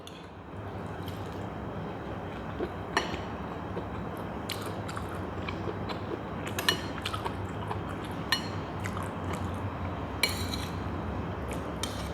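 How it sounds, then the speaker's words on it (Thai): Large mushrooms being stir-fried in a pan with oyster sauce, giving a steady sizzle with scattered clinks and scrapes of a utensil against the pan, close and continuous without talk. "ทินก็จะผัดเห็ด"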